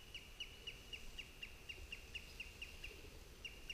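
Eurasian curlew calling over a Finnish bog at Kylmäluoma: short, bright notes repeat steadily about four times a second in a long even run, moderately distant above faint background hiss.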